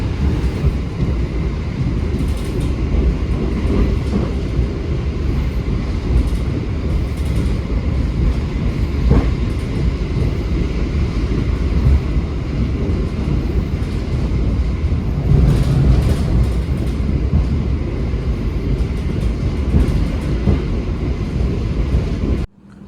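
Jayakarta passenger train runs at around 110 km/h, a steady loud rumble of wheels and carriage noise heard from inside, with faint rail clicks, unbroken until an abrupt stop.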